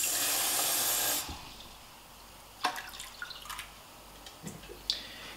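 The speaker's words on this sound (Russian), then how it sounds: "Теперь сюда мне осталось добавить еще воды" Water pours in a loud, steady rush into a pot of soaked dried peas for cooking, stops after about a second, and is followed by scattered small drips and splashes.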